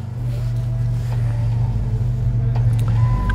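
Engine of a vehicle idling and running steadily in gear while it is winched through a snatch block, a loud, constant low rumble close by with faint creaks and clicks over it.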